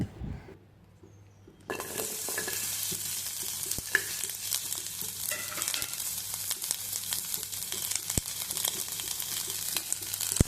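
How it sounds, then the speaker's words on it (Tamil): Onions and tomatoes sautéing in a pan for a potato gravy: after a brief quiet start, a continuous crackling sizzle sets in, punctuated by a few sharp clinks and stirring scrapes. "வெங்காயமும் தக்காளியும் நல்லா வணங்கட்டும்."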